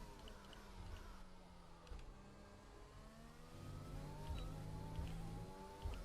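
A Formula 1 car in the F1 racing game revs up and climbs through the gears on a qualifying lap at the USA circuit, its engine whine rising and shifting, fairly quiet and alone.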